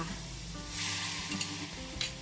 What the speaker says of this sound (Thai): เราจะเคี่ยวไปเรื่อยๆ จนกว่าน้ำตาลจะขึ้นฟองหยาบค่ะ